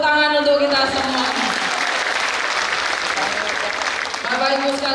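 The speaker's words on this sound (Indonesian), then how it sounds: "Tepuk tangan untuk kita semua." A large crowd of thousands applauds in a hall, the broad clapping swelling and holding steady, with a speaker's amplified voice briefly audible at the start and end.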